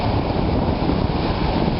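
Surf washes steadily onto a seashore beach on Perdido Key, with wind buffeting the microphone throughout in a dense, continuous roar.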